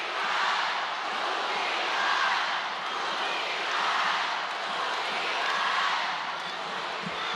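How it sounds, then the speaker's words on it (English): A basketball arena crowd at a UAAP men's game roars continuously, a dense, steady wall of cheering that swells and dips in waves with no clear voices standing out. "This crowd is going crazy."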